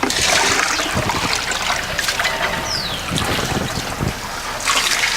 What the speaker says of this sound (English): We'll rinse it out while you're standing it up.